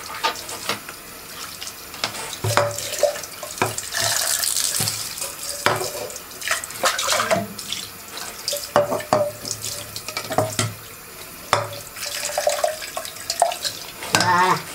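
An OASE pond pump cartridge rinsed under a running tap, water splashing steadily over plastic with intermittent knocks and clatters as it is handled near a sink.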